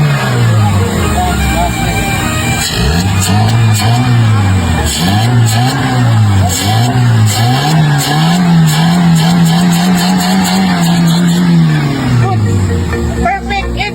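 A pit bike fitted with a new carburetor runs loud and close, its engine note climbing and dropping through repeated revs before settling into a steady higher idle, with voices now and then over it.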